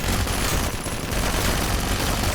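Rapid, sustained automatic fire from an AA-12 shotgun fitted with a switch in the shooter game Straftat, loud and close, one dense unbroken barrage of blasts lasting a few seconds.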